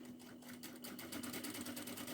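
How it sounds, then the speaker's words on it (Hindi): A sewing machine runs steadily, stitching along the edge of a cotton kurti with side pockets, its motor humming in a fast continuous rhythm, close and fairly loud with no voices. "इसके किनारे किनारे पे सिलाई लगाएंगे।"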